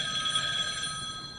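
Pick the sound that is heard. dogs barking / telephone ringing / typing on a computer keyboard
telephone ringing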